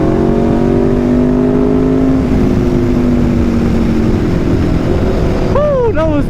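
An Aprilia RSV4 motorcycle with an SC-Project CRT exhaust accelerates on the road. The engine's tone sweeps beneath heavy, constant wind buffeting, and a sharp rising rev near the end may mark a gear shift.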